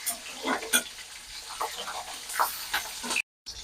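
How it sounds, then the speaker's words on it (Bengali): Black cumin seeds and chopped green chili crackle and hiss in hot oil, a close, steady sizzle with scattered pops, briefly cut off near the end. "এইবার আমি তেলের উপরে একটু কালো জিরে দিয়ে দেব, একটু কাঁচা লঙ্কা কুচি দিয়ে দেব, দিয়ে একটু ভালো করে ভেজে নেব।"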